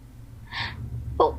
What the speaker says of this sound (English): Scootaloo gave a tiny gasp